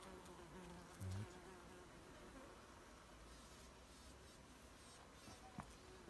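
Bumblebee buzzing close up while collecting pollen from wild roses: a steady, continuous insect drone with a short louder burst near the start, heard alone.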